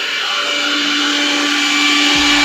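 A kitchen mixer grinder powered by a 1.2 kVA MPPT solar UPS, a loud steady high-pitched motor whine running continuously up close, with a low rumble shifting near the end.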